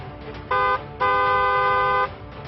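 A car horn honks twice, a short blast followed by a longer sustained one, loud and close over a faint background.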